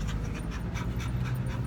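Excited dogs pant steadily inside a car, a close, continuous rapid breathing with no talk.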